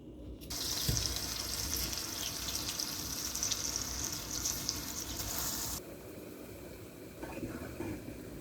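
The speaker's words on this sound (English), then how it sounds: "I'm going to take my turkey, I'm going to put it in the skillet" Turkey sizzles in olive oil in a skillet, a loud broad hissing crackle that runs steadily for several seconds and then abruptly softens to a quieter, lower sizzle.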